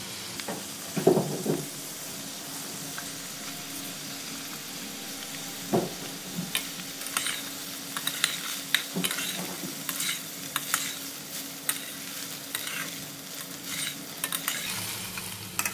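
Paneer fried rice being stirred and mixed in a pan over lowered gas heat, giving a continuous soft sizzle with frequent close scraping and tapping of the spatula.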